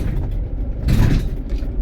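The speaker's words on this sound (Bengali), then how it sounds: "বড় গাড়ি যত আছে সব এইদিকে আসা যাওয়া করছে" Heavy road traffic, mostly big coal trucks and lorries on a jammed road near the Satgachhia railway crossing, passes by outside an ambulance in steady low engine rumble, with one louder vehicle swelling past midway.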